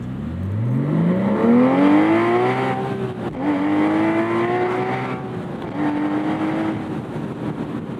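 A Porsche Boxster Spyder 4.0 engine revs up loudly through several gears, its pitch climbing, dropping at each shift, then climbing again.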